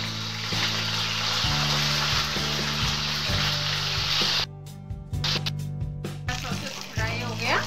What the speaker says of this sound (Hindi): तेल गर्म हो गया, अभी हम सॉसेस डालेंगे।